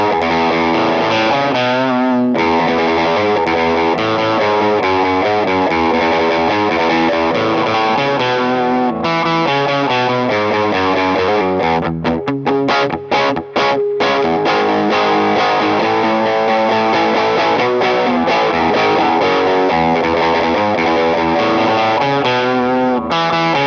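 Electric guitar, a 2016 Gibson Firebird V T with upgraded vintage-voiced pickups, played loud and continuous with distortion and effects, dense chords and riffs sustained throughout with a brief choppy stop-start passage midway.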